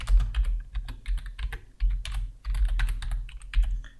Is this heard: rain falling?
no